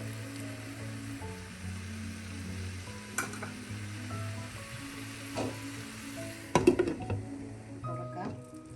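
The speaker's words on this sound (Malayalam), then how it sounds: "ഇപ്പോൾ നമുക്ക് തക്കാളി ചേർക്കാം. അത് ഇതോടൊപ്പം ഒന്ന് ഇളക്കി ഒന്ന് വഴന്ന് നന്നായി അടച്ച് വയ്ക്കാം." Tomatoes stirred into a Kerala-style thick-gravy chicken curry masala, with soft sizzling and occasional spoon scrapes against the pot, a louder clatter near the end, and faint background music throughout.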